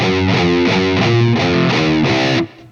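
A slow distorted electric guitar riff on two strings repeats a short pattern of chugging notes in steady rhythm, loud and heavily processed, then cuts off abruptly.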